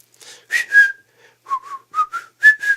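A person whistles a tune in short melodic phrases, clear and close, with brief pauses between bursts of notes and no talking.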